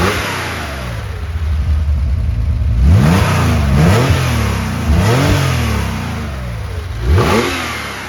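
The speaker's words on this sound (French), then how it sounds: "On a notre petit moteur avec sa sonorité magique." Porsche 911 2.4 S engine revving in several quick blips rising and falling over a steady idle, close and loud, with no talk.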